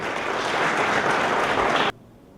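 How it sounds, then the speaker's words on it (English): Loud, dense audience applause at a Religious Leaders' Dialogue Series launch led by the Deputy President, a steady wash of many hands clapping that cuts off abruptly near the end, leaving only quiet room tone. "let us applaud the women of our country"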